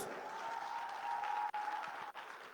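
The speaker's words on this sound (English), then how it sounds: "Please give yourself a round of applause." Audience applause fills the hall at the closing ceremony of the 2025 Global Expo Prize in Botswana: a dense, steady wash of clapping from a large crowd that holds for a few seconds, with two brief dips near the end.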